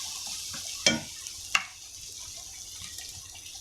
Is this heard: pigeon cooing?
no